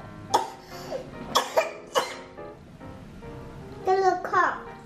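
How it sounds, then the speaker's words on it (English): A two-year-old child coughs a few times in short, sharp bursts at a family table during breakfast, mixed with babbling, and an adult's voice follows near the end. "There's a cough. You're coughing?"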